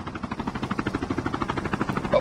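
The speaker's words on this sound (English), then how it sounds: "Dia ambil chopper." Helicopter in a video game shooter, its rotor thumping steadily and fairly loud throughout, a rapid even pulse with engine whine over it.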